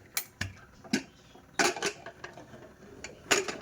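Sharp metallic clanks and clatters of a pressure cooker lid being handled and opened, scattered irregularly and fairly quiet.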